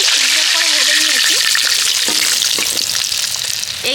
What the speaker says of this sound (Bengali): মাছগুলোকে আমি উল্টে পাল্টে সুন্দর করে ভেজে নিয়েছি